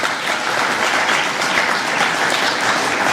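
An audience applauds a songwoman at a multicultural community event, the clapping full and continuous, close and fairly loud without a break.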